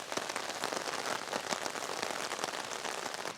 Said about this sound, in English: the rain hasn't stopped yet this morning